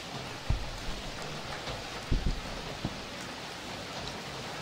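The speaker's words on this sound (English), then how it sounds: "Raining." Steady rain hisses in the background of an indie horror video game, with a few soft thumps and footsteps standing out now and then.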